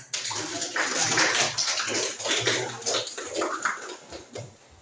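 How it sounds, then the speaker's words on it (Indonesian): Classroom applause for a student group, a dense burst of many hands clapping together that stays fairly loud and slowly thins out. "beri aplaus untuk kelompok 4"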